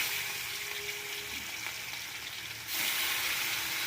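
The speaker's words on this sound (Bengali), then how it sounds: "তো মাছটা আমি ভেজে নেব" Seasoned fish pieces fry in hot oil, a dense, steady hissing sizzle close up that suddenly grows brighter and louder near the end.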